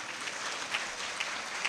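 Applause from an audience gathered at a Hindu religious discourse, a dense, soft patter of many hands clapping steadily and fairly faintly at a distance, without speech.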